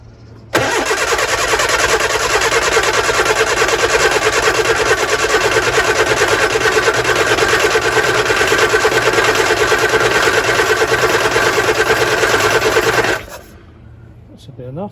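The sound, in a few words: Lotus Twin Cam engine cranking over and starting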